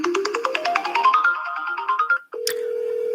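A phone line rings while an attorney places a call to the next caller on a live free-consultation stream: a descending run of quick electronic dial tones, then a short pause and a steady, clear ringback tone.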